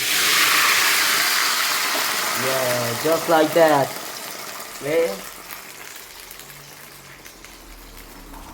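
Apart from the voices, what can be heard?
wine poured into a pan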